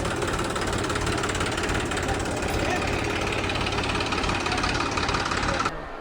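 A tractor engine runs steadily close by, a loud continuous rumbling chug with a dense broadband roar that holds for several seconds before dropping slightly at the end.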